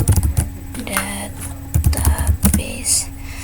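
Keystrokes on a computer keyboard as a create command is entered, a quick run of close, fairly loud clicks and taps spread across a few seconds.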